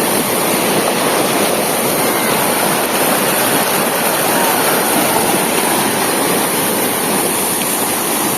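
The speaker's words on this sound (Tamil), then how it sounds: "இதில் வெள்ளம் போகிறதையும் பார்க்குறீங்க பாருங்கள் அனைத்து மறுகாலையுமே" Floodwater rushes over the Puliyankulam reservoir spillway in a loud, continuous roar of churning water, steady and close throughout with no voices.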